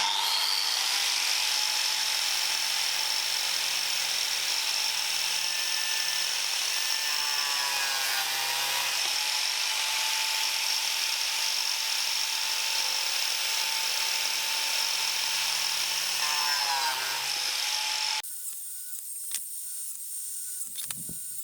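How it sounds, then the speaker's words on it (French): A biscuit joiner, either a Dewalt DW682 or a Makita PJ7000, whines loudly and steadily as it runs and plunges into a wooden board, then winds down and stops abruptly near the end. "On vient placer la lamelleuse à plat sur la planche"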